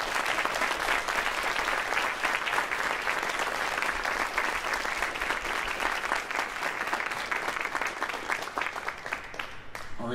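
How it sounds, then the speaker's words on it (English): A concert audience at a Michigan Tech video game jazz ensemble performance gives dense, sustained applause, a continuous wash of many hands clapping that stays loud and steady for around ten seconds. "Please give another round of applause."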